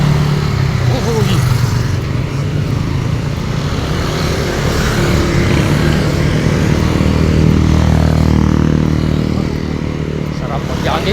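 Motorcycles and other vehicles pass along the Marilaque highway in Tanay, Rizal, a steady loud engine drone that runs through the whole stretch, with voices faintly present.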